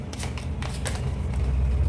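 Tarot cards being shuffled and drawn during a reading, a few quick papery riffles and flicks, close and moderately loud over a steady low background hum.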